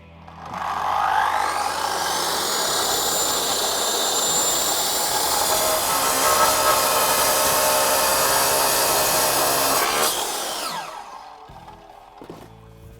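An Evolution R230DCT 9-inch electric concrete saw cutting through a modern block paver, a loud, close, sustained high whine and grinding roar for about nine seconds, then a sharp wind-down as the electric brake stops the blade.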